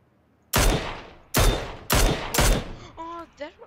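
Gunfire in PlayerUnknown's Battlegrounds: four sharp, loud shots in quick succession, each with a decaying tail, followed by fainter tonal clicks.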